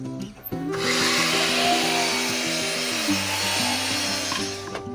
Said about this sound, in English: So I'm going to make my first 45-degree cut